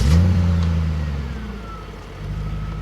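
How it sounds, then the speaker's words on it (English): Audi RS6 C5 starting up: a brief low mechanical whir as the starter turns the engine, then a steady deep engine hum that settles at idle, close and moderately loud. "you hear that mechanical noise of the starter"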